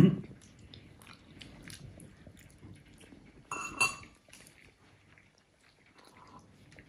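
Someone eats creamy bacon pasta with chives, soft wet chewing and bites close to the mic, along with a brief clatter of cutlery or dishes midway, all fairly quiet.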